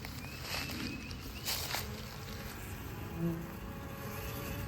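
A swarm of bees buzzing close by in woodland, a faint, steady droning hum with a few brief louder passes, no talking.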